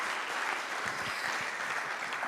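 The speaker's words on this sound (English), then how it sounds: "Now you have my permission to give a round of applause to our fantastic panelists" Sustained applause from a summit audience for a panel of speakers, dense and even clapping filling the hall at moderate loudness throughout, with no voices over it.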